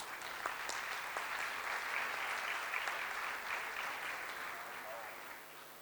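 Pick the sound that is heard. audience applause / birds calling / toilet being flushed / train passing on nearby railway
audience applause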